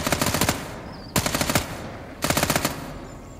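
Three rapid bursts of automatic gunfire in the survival video game Fear The Night, each a tight string of loud shots lasting about half a second, separated by brief pauses, with no talking.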